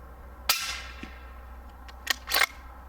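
A suppressed rifle firing cast bullets gives a sharp muted crack followed by a decaying tail, then two more quieter, shorter reports close together later, all against steady low background hum.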